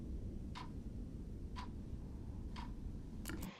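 A clock ticks four evenly spaced times, crisp and close, over a constant deep engine rumble from the Titanic's engine rooms several decks below, with a brighter double click near the end.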